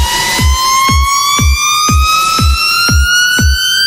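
Synthesized noise rises in a tuned riser build-up, with a steady upward sweep of tonal partials over rhythmic pulses of deep kick hits about every half second, loud and continuous with no talking.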